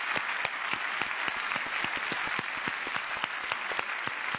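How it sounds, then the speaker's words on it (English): An audience at the Venice Film Festival award ceremony gives steady, dense applause, with many claps blending into a continuous patter and no voices over it. "So please, let's make a big applause."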